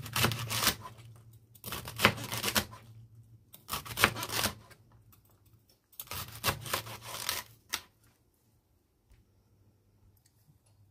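Celery stalks sliced on a board, bursts of crisp crunchy knife strokes in four rapid clusters with short pauses between, close and fairly quiet, trailing off into near silence with no talking.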